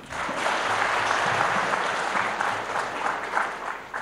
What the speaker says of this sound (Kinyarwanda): mukomere amashyi